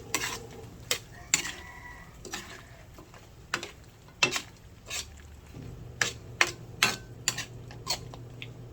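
Chicken feet adobo being stirred in a pan, with a spoon scraping and clinking against the metal in irregular strokes over a soft sizzle. The sound is close and moderately quiet, and no one speaks.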